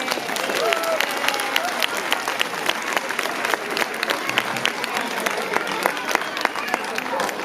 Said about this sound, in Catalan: Un aplaudet!